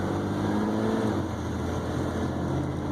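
A 1994 Ford F-150 pickup with a 300 cubic inch Ford engine cruising on the road, giving a steady, continuous low drone of engine and road noise with no pauses or speech.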